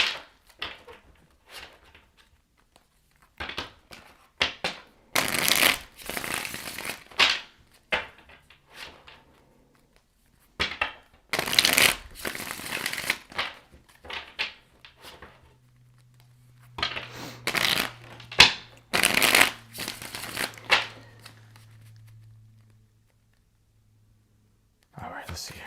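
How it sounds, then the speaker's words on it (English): Tarot cards are shuffled by hand in bursts of crisp riffling and slapping, with pauses between, while a soft voice speaks quietly in the gaps and a low hum runs underneath. "Last shuffle here."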